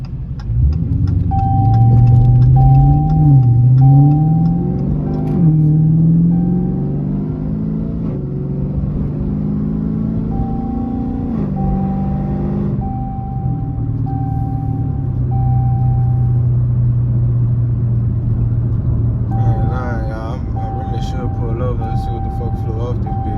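A Dodge Scat Pack with its hood removed, its engine rumbling loudly and continuously from inside the car, the pitch rising and falling with throttle, while a thin electronic chime tone repeats at intervals.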